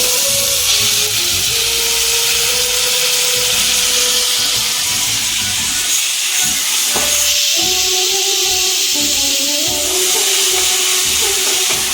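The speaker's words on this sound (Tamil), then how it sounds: "வெங்காயம் எனக்கு வதங்கிடுச்சு இப்போ அதில் தக்காளி சேர்த்து" Tomatoes go into a pan of sautéed onions, producing a loud, steady sizzle and hiss that fills the whole stretch, with faint steady tones humming underneath.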